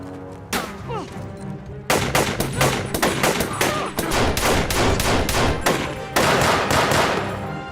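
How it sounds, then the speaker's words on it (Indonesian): Gunfire in a film shootout between terrorist troops and soldiers: dense bursts of rapid shots, loud and continuous, with a brief pause before heavier volleys resume. "baku tembak antar mereka pun tidak bisa lagi terelakkan"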